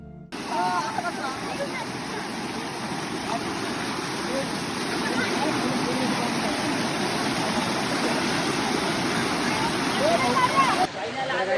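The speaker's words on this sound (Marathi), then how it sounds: "हा धबधबा आहे" A waterfall on a rainy-season trip flowing in a steady, loud broadband rush that fills the whole clip, with faint voices of people underneath.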